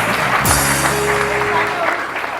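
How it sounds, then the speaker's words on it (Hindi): Applause from the studio audience of a TV morning show, a continuous broad patter of clapping mixed with music and a little talk, steady and moderately loud. "उरूज के लिए बहुत सारी तालियां जी, थैंक यू।"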